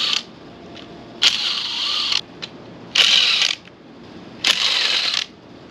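A ratchet works loose the drain plugs on a Mazda RX7 transmission pan, giving three loud, close bursts of rapid clicking, each lasting about a second, separated by quiet pauses and a few lighter ticks.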